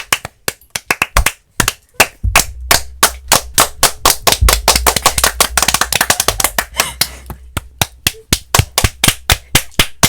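Hands clap sharply and repeatedly close by, a sparse start building into a dense burst of rapid, loud claps from a small group indoors before thinning out again toward the end.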